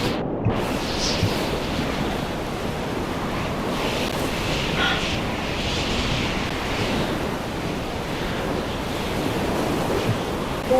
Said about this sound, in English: I have to fight against these waves.